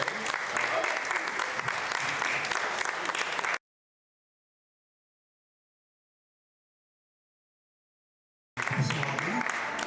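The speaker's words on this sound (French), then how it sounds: "Donc un tonnerre d'applaudissements pour Mathilde et François." An audience at a web TV inauguration in Réunion gives loud, dense applause, which drops out abruptly for several seconds and returns at the end.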